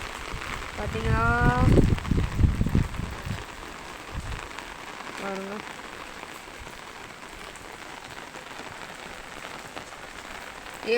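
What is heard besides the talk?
heavy rain falling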